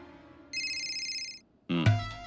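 A brief electronic ring tone sounds for about a second, then stops; a louder, tonal burst of sound follows shortly after.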